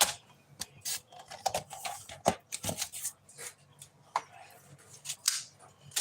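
A paper trimmer slicing cardstock during card making, a series of close, sharp scraping and clicking strokes with irregular pauses, heard without speech.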